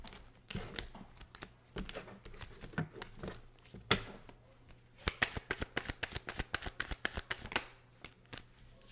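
Doreen Virtue oracle cards being shuffled by hand, a dense run of quick papery riffles and flicks close up, fairly quiet, alone without talk.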